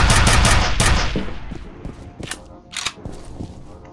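Gunfire in the shooter game F.E.A.R.: a dense, loud volley of rapid shots at the start that thins into scattered sharp single shots and echoing impacts.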